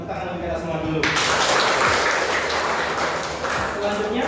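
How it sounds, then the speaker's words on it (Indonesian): Grade 12 multimedia students in an Indonesian classroom break into applause partway through, a dense burst of clapping over voices and room noise. "Tepuk tangan untuk kita semua dulu."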